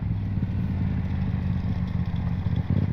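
A motorcycle brakes and the engine gives a quick throttle blip during a downshift, a steady mid-pitched engine drone with clattering, close and fairly loud, rising slightly at the end.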